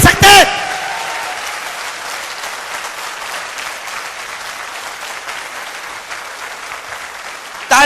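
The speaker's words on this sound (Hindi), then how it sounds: "तालियां बजानी है तो तसल्ली से बजा दो," An audience at a network marketing talk breaks into applause, with a continuous crowd clapping that holds steady for several seconds between brief bits of a speaker's voice at the start and end.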